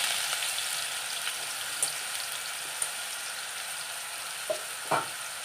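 Crushed onion fries in a pan for a Kerala upperi stir-fry, a soft, even sizzle running throughout with a few light clicks and taps of a spoon near the end.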